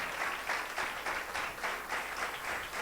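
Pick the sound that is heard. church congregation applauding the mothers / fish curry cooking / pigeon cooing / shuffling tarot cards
church congregation applauding the mothers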